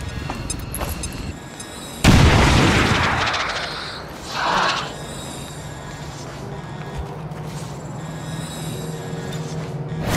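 Explosions from bombs dropped in the strategy video game XCOM: a sudden loud blast erupts midway, rumbling and fading over a couple of seconds, followed by a second smaller burst, with game noise and faint voices around it.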